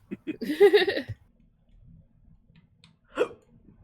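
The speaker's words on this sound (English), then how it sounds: "I was burping" One close, voiced burp rumbles for about half a second, followed later by a shorter, sharper throat sound, with faint low background noise between them.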